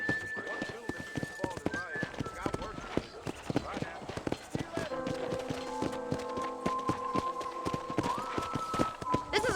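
Horse hooves clip-clop in quick, uneven beats in the video game Red Dead Redemption while voices talk over them.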